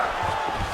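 Arena crowd in a UFC 5 fight simulation roaring steadily at moderate distance, a broad continuous wash of cheering with no single voices standing out.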